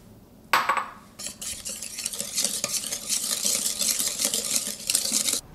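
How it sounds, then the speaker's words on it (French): Egg yolks and sugar being stirred by hand in a bowl for a chocolate vanilla Christmas log, a steady scraping whisk-and-spoon rhythm against the bowl, close and continuous after a brief clink at the start, no talking. "il faut tout simplement bien mélanger"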